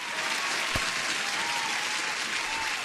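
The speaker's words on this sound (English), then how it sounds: "Huge applause." A steady wash of crowd applause at moderate loudness runs unbroken throughout, with one brief low thump early on and no voices over it.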